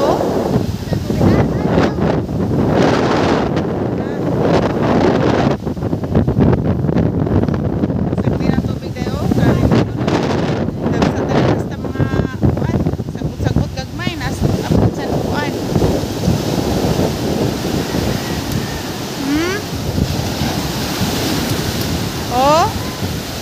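Heavy surf and gusting wind batter a shoreline in sitio Nipa during Typhoon Dante, a continuous loud roar with buffeting wind noise on the microphone, while people talk and shout over it.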